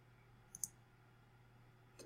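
A computer mouse gives a couple of quick, faint clicks close by in a quiet room, followed by one more click at the end.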